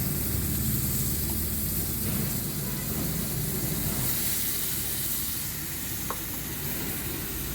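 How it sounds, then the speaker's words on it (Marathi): Water hits hot oil in a pan of frying garlic chutney cooked over a wood-fired stove, giving a loud, steady sizzle and steam hiss that runs throughout, with a faint clink near the end. "आता थोडं भाजून पाणी टाकते"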